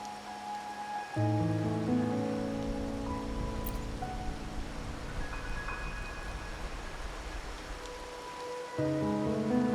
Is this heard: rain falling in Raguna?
yes